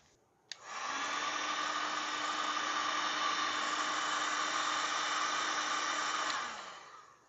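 Heat gun blowing hot air to shrink heat shrink tubing over repaired wire connections on a Surface 604 Boar head light cable, a steady loud whirring roar that starts abruptly, holds for about six seconds, then winds down, with no talk.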